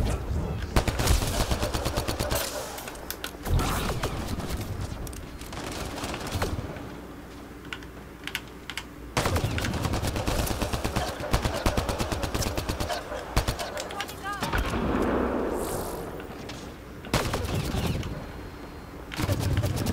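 Bursts of rapid gunfire crackle in Mass Effect Andromeda multiplayer, coming in several loud volleys separated by brief lulls, mixed with game effects and occasional voices.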